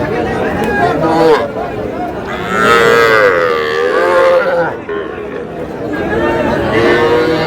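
Cattle lowing at Ambari livestock market in Dinajpur among young bulls and calves, several long loud moos close by, over a background of crowd chatter and people talking.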